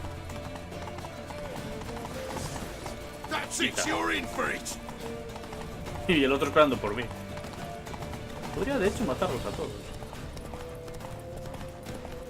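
Horse hooves clip-clopping in The Witcher 3, a game set in Skellige, in a series of short rhythmic bursts beneath an ongoing game soundtrack, with someone talking over them.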